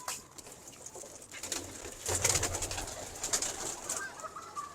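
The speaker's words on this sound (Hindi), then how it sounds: "बहुत ही अलग कबूतर है" Pigeon cooing from a fancy breeding pair, a male and a female, heard at close range as soft low coos under bird chatter and some rustling, with no voices.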